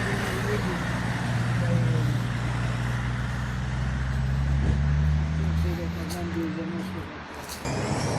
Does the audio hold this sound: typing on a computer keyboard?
no